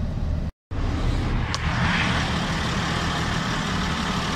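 Highway traffic rushing past a parked truck in Jeddah, Saudi Arabia, a steady low roar of vehicles with one brief sharp hiss partway through, continuous and moderately loud.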